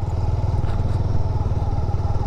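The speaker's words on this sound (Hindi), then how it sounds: "आप देखिए इंजन का साउंड भी बहुत ज़्यादा नहीं है" A Honda CB300R motorcycle engine runs at low rpm, around 2000, while riding in second gear. It gives a steady, close, throbbing low rumble with even pulses and no voices.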